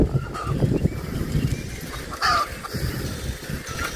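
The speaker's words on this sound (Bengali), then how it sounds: "এই যে হাঁস" Ducks on a winter village road give a few scattered, fairly faint quacking calls over steady outdoor background noise.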